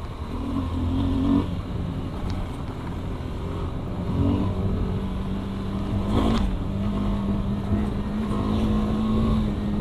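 A motorcycle is ridden fast off-road in Ladakh, its engine droning steadily close up, with rises in revs, wind buffeting, and brief knocks and rattles from rough ground.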